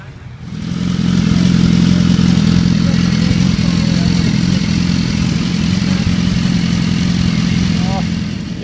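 A BMW RR sport motorcycle on a test-day track circuit, its engine droning steadily and loudly up close throughout, with a faint voice briefly near the end.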